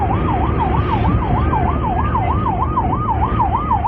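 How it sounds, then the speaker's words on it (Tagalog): A long-range acoustic device on China Coast Guard ship CCG 3103 wails, a loud, piercing siren in a fast, regular up-and-down warble over a heavy engine drone, continuous throughout. "ang malakas na wangwang na yan ng CCG 3103"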